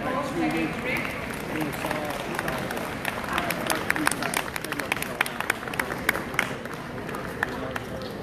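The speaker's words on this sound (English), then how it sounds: "Thank you to the editors for giving a round of applause." Applause and clapping from a crowd at the East of England 2019 dog show Toy Group ring, a steady wash of many hands with scattered sharper claps and background hubbub throughout.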